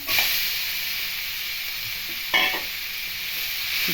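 Onions with salt, ridge gourd and cooked lentils fry in a pan with a constant close hiss and sizzle, one louder scrape of stirring midway and no voices.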